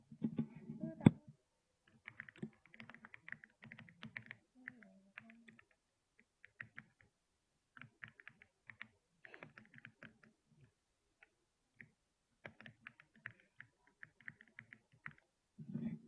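Someone types WordArt text in PowerPoint on a computer keyboard: quiet, irregular bursts of soft clicks with short pauses between runs, close and alone.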